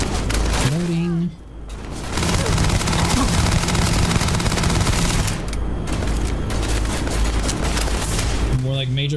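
Sustained rapid gunfire in the space exploration video game Starfield, dense and loud for most of the stretch with a short dip near the start, while electronic game tones chirp at the beginning and end.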